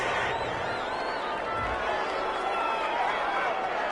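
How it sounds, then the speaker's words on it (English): Stadium crowd in a Cowboys at Vikings football video game rumbles in a sustained roar of disapproval after a roughing-the-passer penalty, loud and continuous throughout, with a commentator's voice faintly present. "Well, this crowd does not like that call."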